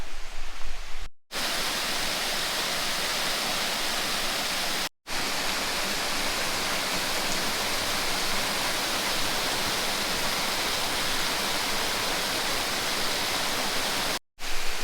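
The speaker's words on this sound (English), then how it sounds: "can hear the water now to my left" Steady, full rushing roar of a Yorkshire waterfall, continuous and fairly loud, with a couple of abrupt momentary cut-outs.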